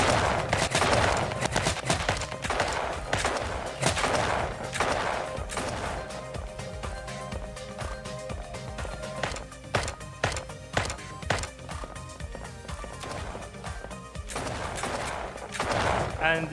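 A student-made video game plays a dense, continuous barrage of mixed weapon fire with rapid bursts and single cracks over a busy music-like background, while a voice talks throughout.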